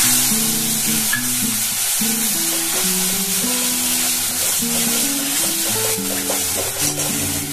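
A paste of tomato and ginger with ground cumin, coriander, turmeric and Kashmiri chili fries in a pan, giving a steady, close sizzle with stirring scrapes and a faint melody playing underneath.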